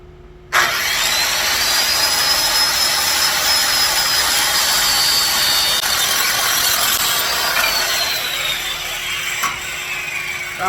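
A power saw cuts through a wooden bedroom door being made into a Dutch door, a steady loud whine running unbroken for about ten seconds after a sharp start, with no talk.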